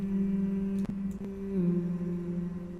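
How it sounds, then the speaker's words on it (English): A single voice hums a song melody with a steady sustained tone, held notes shifting pitch slightly midway, fairly close and moderately loud, with two brief breaks near the start. "This is just me humming."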